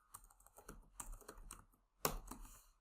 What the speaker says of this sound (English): So you could type some sort of text like error